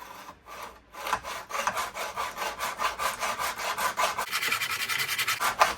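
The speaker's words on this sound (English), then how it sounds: "Let's cut a bit of this aluminium." A cheap hand mitre box saw cuts through aluminium at a 45-degree angle, giving steady, rapid back-and-forth rasping strokes that speed up toward the end, close and fairly loud with no talking.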